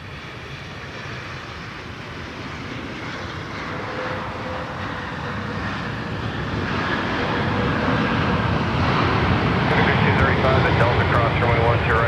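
A Southwest jet comes in to land on runway 12 right at Minneapolis–St. Paul Airport, its broad engine roar swelling steadily louder and nearer, with radio voices talking over it.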